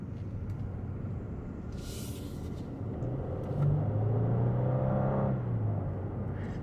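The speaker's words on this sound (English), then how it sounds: "So you can hear the engine when you really floor it" A 2023 Genesis G90 3.5-litre turbo with electric supercharger rumbles steadily, then surges louder as it accelerates hard at full throttle for a couple of seconds before easing off.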